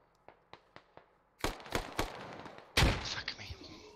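Several spaced single gunshots pop at a distance, then a dense fusillade of rifle fire and heavy mortar blasts hits close and loud in a tactical military shooter match on the Fools Road map, the last impact booming with a lingering tail.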